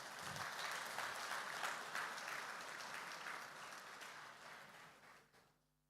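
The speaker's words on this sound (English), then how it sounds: "Let's give him another round of applause." Sustained applause from a crowd at a cabinet retreat, steady and full for several seconds before fading away at the end.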